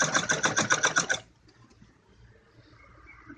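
A sewing machine hems the folded leg bottom of a kids' romper in a rapid, evenly pulsing burst of stitching lasting about a second, then stops, leaving faint quiet room noise.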